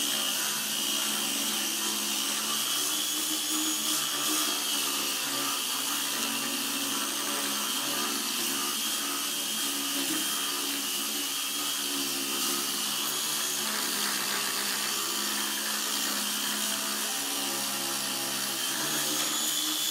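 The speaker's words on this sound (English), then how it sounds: "I'll finish off with my sander." A power sander whirs loud and continuous at close range, smoothing jagged marks on wood with a steady high buzzing drone and no pauses.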